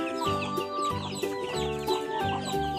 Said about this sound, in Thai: ไก่เล็ก ไก่เยอะแยะเลยเพิ่งฟักใหม่